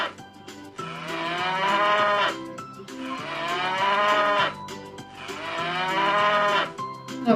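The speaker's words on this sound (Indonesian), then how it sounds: "Ini namanya sapi." A cow moos three times in long, drawn-out calls, each loud and close, separated by short pauses.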